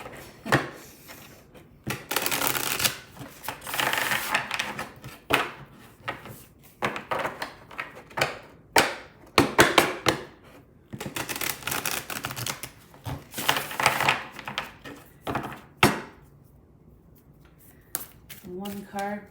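Tarot cards shuffled by hand in repeated close, crisp riffling and slapping bursts through the clip, with a person speaking at the end.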